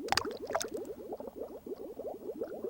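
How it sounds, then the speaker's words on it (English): Bubbling, gurgling water after an egg is dropped into a water tank in the Seaman video game, a quick string of soft close blips and burbles with a few sharper splashy clicks at the start, no talk. "let's drop the egg in the tank"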